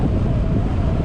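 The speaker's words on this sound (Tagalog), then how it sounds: "malakas nga lang hong hangin" Strong wind buffets a camera microphone outdoors on a quiet road by the water, a dense, continuous low roar that fills the whole moment with no voices over it.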